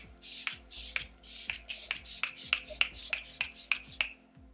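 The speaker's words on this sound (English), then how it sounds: "next I'm gonna spray my face" A series of about a dozen short, hissy bursts of MAC Fix+ setting spray misted onto a face, in a quick, fairly steady rhythm, close and crisp with brief pauses between them.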